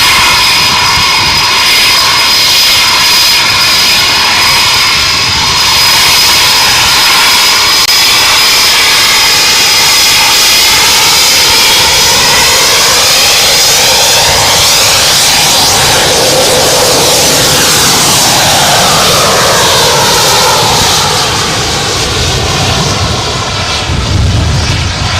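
Pair of RAF Typhoon fighter jets departing Coningsby, a loud continuous roar that swells and sweeps in pitch as the jets pass close, holding strong for the whole stretch with no talk.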